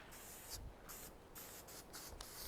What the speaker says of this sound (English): so we use grill spray.